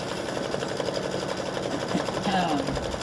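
A sewing machine runs a satin stitch around an applique, giving a steady, close mechanical whir with fast, even needle chatter throughout, under faint background voice.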